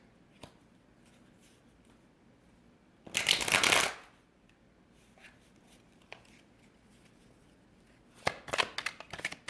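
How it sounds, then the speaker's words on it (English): A deck of tarot cards riffled in a quick burst, then quiet handling, and a second flurry of shuffling near the end, close and crisp. "Let's shuffle these babies."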